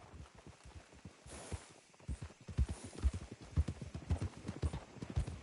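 Video game horse hooves in Red Dead Redemption 2: rhythmic clip-clop of trotting, close and fairly loud, with a quieter pause before the steady hoofbeats pick up again.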